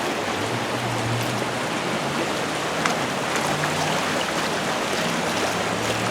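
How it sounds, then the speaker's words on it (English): Water rushes over the Lake Hopatcong dam waterfall after heavy rain from storm Ida, a loud, dense, unbroken roar with a low rumble, steady throughout and without voices. "there's a lot of water, so the waterfall the dam and waterfall is very active"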